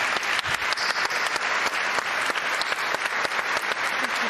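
A large crowd applauds the Spanish team in a dense, sustained roar of clapping, steady and full from start to finish with individual claps cutting through the wash.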